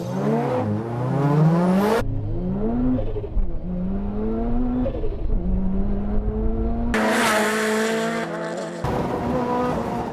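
Two race cars rev hard and accelerate from the start on a Japanese mountain pass, their engines climbing in pitch through gear changes, loud and close, with a pause before another engine roars up again.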